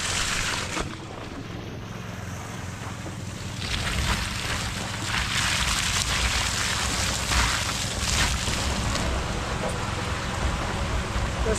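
Water pours into a farm sprayer tank before spraying eggplants, a steady rushing splash that grows louder after a few seconds and keeps going.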